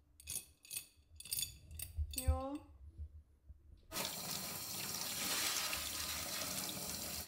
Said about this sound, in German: Wir waschen die jetzt kurz im Wasserhahn ab und dann gehen wir sie ins Ultraschallbad.